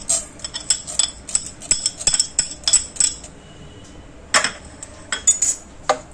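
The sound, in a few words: stirring spices in oil in a cooking pot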